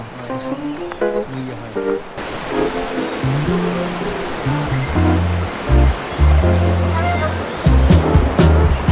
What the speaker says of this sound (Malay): Ni di sini deras sikit lah sebab ada batu banyak-banyak.